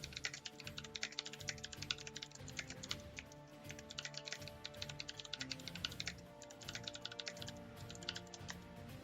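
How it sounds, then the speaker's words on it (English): Steady, rapid clatter of typing on a computer keyboard, dense keystrokes running continuously for several seconds, close and fairly loud with no voices. "I'm typing that in the chat."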